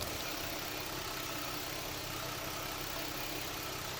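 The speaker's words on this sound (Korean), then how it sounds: "엔진 소음 한번 들려드릴게요." A Hyundai Genesis BH 330 V6 engine idles steadily, a smooth, quiet low hum with no roughness or surges, continuous throughout.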